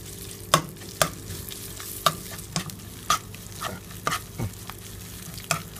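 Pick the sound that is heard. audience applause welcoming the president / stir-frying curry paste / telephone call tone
stir-frying curry paste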